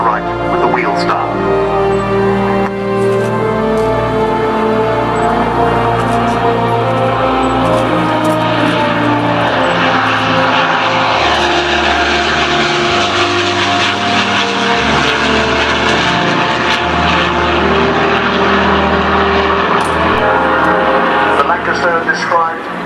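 A large propeller-driven airplane passes in a low, steady engine drone at an air show at RNAS Yeovilton, while a commentator speaks over the sound.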